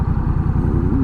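A Honda Rebel 1100 motorcycle with an aftermarket exhaust idles close by, a throaty, lumpy low burble pulsing steadily for a brief moment.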